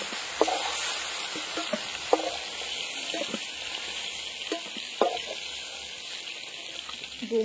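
Prawns sizzling steadily in hot oil in a pan, a continuous close hiss broken by occasional clicks and scrapes from stirring.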